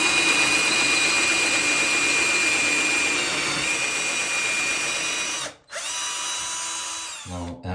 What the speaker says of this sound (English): I faced no issue in drilling a hole in the tile